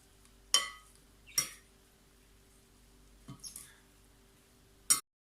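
Tabbouleh salad tossed with olive oil in a bowl, a few sharp clinks of utensils against the dish spaced apart, with quiet pauses between them.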